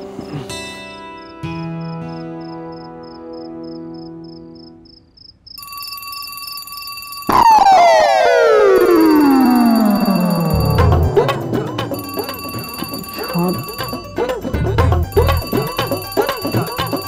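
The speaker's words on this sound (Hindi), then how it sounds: "पाँच बजे का अलार्म लगाने का क्या मतलब है?" An alarm clock set for five o'clock rings with repeated electronic bell-like tones, shifting patterns and a loud sweeping ring partway through, continuing insistently without talk.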